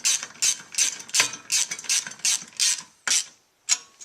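A hand ratchet snugging the mounting bolts on a Cipher CAP1000 racing seat bracket, with about ten quick close clicking strokes in a steady rhythm, then a pause and a final couple of clicks.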